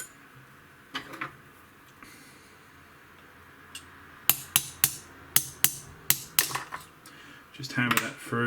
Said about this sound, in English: Just hammer that through.